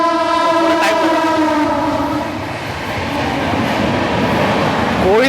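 Saurashtra Janta Express train rolling through a junction, a loud close roar of wheels and carriages with a horn-like tonal blast at the start and another rising at the end.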